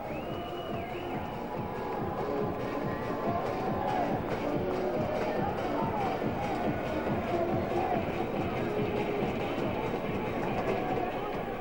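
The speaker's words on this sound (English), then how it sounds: "A little bit of noise from this crowd here." Crowd murmur at a Double-A minor league baseball game between the Rock Cats and Fisher Cats, a busy diffuse chatter with scattered voices that stays level throughout.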